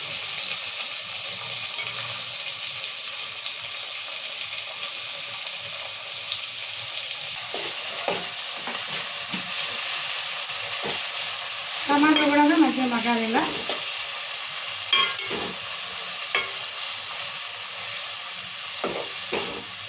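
Tomatoes frying in hot oil in a pan for a mutton curry, with a steady close sizzle throughout and occasional stirring scrapes and clinks of a spoon, louder bursts of crackling midway.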